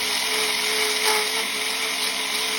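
A power drill elongating a drilled hole during a turbo upgrade and intercooler install runs as a steady, loud, high whine with a constant motor tone throughout, nothing else audible.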